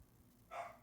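A single dog bark, short and fairly distant, coming from a quiet indoor background.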